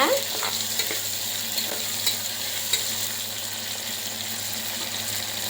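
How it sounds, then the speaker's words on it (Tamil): Tomatoes sauté in a pan for vegetable kurma, giving a dense continuous sizzle with faint occasional stirring clicks, close and steady throughout without any talking. "தக்காளி இந்த அளவுக்கு வதங்கினா போதுங்க."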